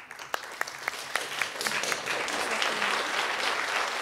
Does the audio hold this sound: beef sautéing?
no